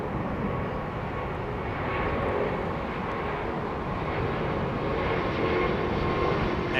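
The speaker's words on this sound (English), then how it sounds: "This is Qatar's 380. Heaving that big 35 tons of undercarriage up." A Qatar Airways Airbus A380 climbs out after takeoff at London Heathrow as its heavy undercarriage retracts, with a steady, loud, broadband jet engine roar that persists evenly throughout.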